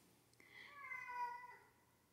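An unhappy cat lets out a single drawn-out meow, faint and indoors, over a low background hum.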